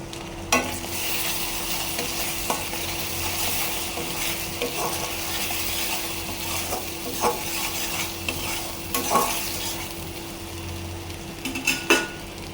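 Continuous sizzling of vegetables frying with ginger garlic paste in a pan, with scattered scrapes and light clinks of a utensil, steady and close throughout.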